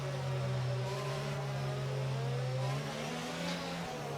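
Simulated Formula 1 race car engine from the F1 22 video game, idling and cruising steadily on a formation lap at Silverstone, a continuous loud tonal drone with slight pitch shifts and no talk.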